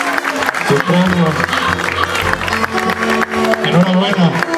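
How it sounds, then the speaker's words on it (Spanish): Crowd at a fishing tournament in Villa Rica, Veracruz applauding a prize winner, sustained clapping under an announcer's amplified voice and background music. "Un aplauso para él, por favor."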